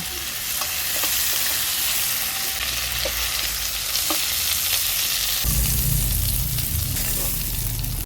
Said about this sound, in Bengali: চিংড়ি মাছগুলো আমি ভেজে নিয়েছি এবার তুলে নেব